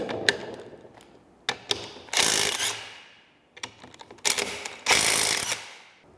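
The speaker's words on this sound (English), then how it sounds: "I'm just taking off these 10 bolts that hold the adapter plate to the mid case" Bolts being removed from a T56 transmission adapter plate on the mid case, heard as bursts of power-tool or ratchet whirring separated by short clicks and pauses, close and moderately loud.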